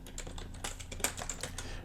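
Fingers tap quickly across a computer keyboard in a short burst of close, crisp keystrokes at an uneven rhythm.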